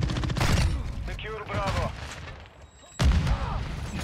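Dense gunfire bursts from the BAS-P weapon in the video game Modern Warfare 2, loud and up close, with a short lull before another heavy burst and a voice shouting over the shots.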